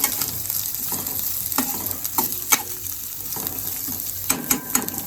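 Chopped onions fry in a pan until light brown, with a steady low sizzle and intermittent scraping and stirring clicks from a spatula, close by and without any talking.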